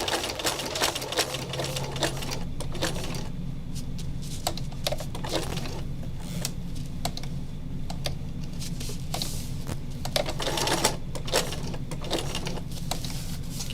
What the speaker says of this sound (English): I'm just going to stitch all the way around, very close to the edge